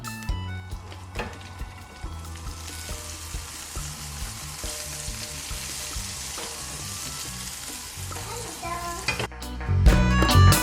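An omelette sizzles and fries in a pan, a steady close crackle with soft stirring and scraping all the way through, ending in louder clatter and knocks of cookware.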